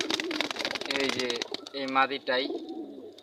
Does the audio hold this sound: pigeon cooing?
yes